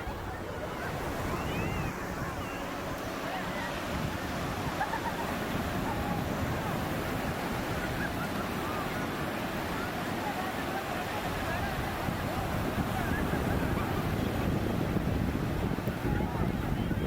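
Ocean waves breaking on a beach in Kerala at sunset, a steady broadband wash of surf rolling continuously without pause, mixed with some wind rumble and faint distant voices.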